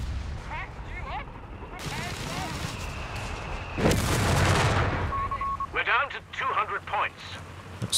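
Incendiary bombing in Company of Heroes 3 during a 2v2 match, heard as a rolling burst of explosions and crackling fire swelling in the middle, with scattered gunfire and battle noise around it and a voice talking over much of it.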